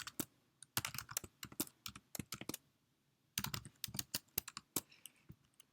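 Quick bursts of clicking keystrokes on a computer keyboard, close and crisp, with a brief pause between two runs of typing.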